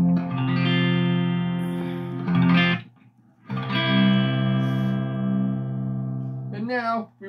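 An ESP LTD MH-1000 electric guitar in drop C tuning rings out in two long, heavy sustained chords through an effects-laden amp, with a brief gap between them.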